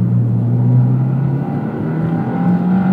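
A 2022 Subaru WRX turbocharged engine pulls at full throttle around 4,000 rpm, a steady close droning growl with a rising tone as the turbo spools, loud and continuous with no talking.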